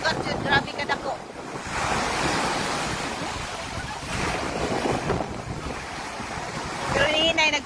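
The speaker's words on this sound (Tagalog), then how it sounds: "Grabe ag dagat jud, grabe ka dako." Big sea waves crashing on the shore at Hilongos, Leyte, a loud continuous roar of surf with gusting wind noise buffeting the microphone and surges of breaking water, close by.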